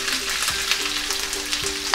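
Onions hiss and crackle in a pan of golden-browned garlic for chicken momo filling, a close, steady sizzle with a few light stirring scrapes and a louder clatter at the very end.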